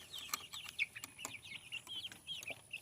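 Baby chicks cheep in quick, high-pitched peeps, several overlapping nearby, with soft scratchy rustling underneath.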